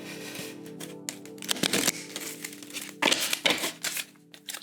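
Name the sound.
shuffling animal message oracle cards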